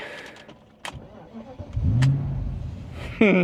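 A 1998 BMW E36 with a 4.4-litre V8 starts up with a low, rising rumble, then settles into a steady, close, loud idle with no one talking.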